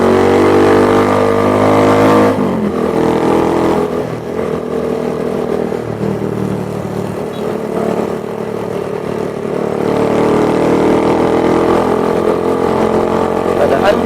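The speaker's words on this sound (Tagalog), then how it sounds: "Sana kahit maingay naman yung motor ko, naririnig tayo." A noisy motorcycle engine runs continuously nearby with a loud, buzzing, harmonic drone that dips slightly in revs midway and then rises again, while a person talks over it.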